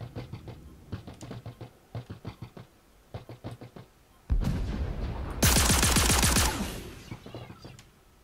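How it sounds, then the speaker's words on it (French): Star Citizen gunfire: short clusters of quick sharp shots repeat at a moderate level, then a sudden loud roar with a harsh, bright burst of heavy rapid fire that fades away, with no talking. "Ça tire là. Ça me tire dessus, on dirait."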